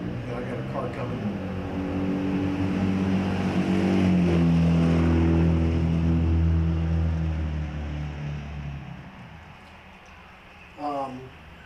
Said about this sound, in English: And I got a car coming.